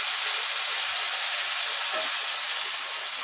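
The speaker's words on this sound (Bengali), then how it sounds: "দেখুন বন্ধুরা, এবার আমরা জল দিয়ে দেবো এর মধ্যে।" Water added to sizzling fried spice paste in a pan for fish curry, giving a loud, steady steam hiss that holds for the whole stretch with no speech.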